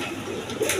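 A pair of pigeons coo softly at close range, a short low murmuring call over faint background noise.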